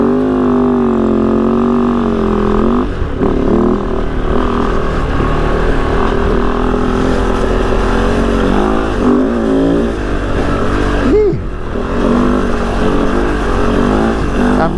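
A 2023 Kove FSE 450 R Rally motorcycle is ridden, its engine droning loudly and continuously, with pitch rising and falling as the throttle opens and eases; no one talks.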